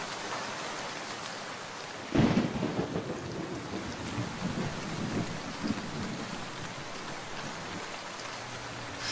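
Steady rain pours on a surface while a loud thunderclap bursts in near the start and rumbles on beneath the downpour, a cartoon storm scene with no voices.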